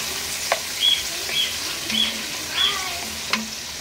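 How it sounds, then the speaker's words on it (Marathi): Finely chopped onions for chicken curry fry over high heat while being stirred in a pan, a soft steady sizzle broken by several short scraping and clinking strokes. "आता 2 मिनटं असे कांदे ना फास्ट गॅस करायचा आणि असं परतून घ्यायचं"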